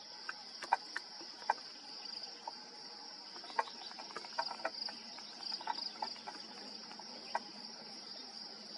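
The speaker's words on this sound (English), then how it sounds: "there's a lot of bugs here" Insects chirp in a spring forest, a continuous high-pitched cricket-like trill running throughout with scattered short chirps and clicks over it, fairly faint and with no talking.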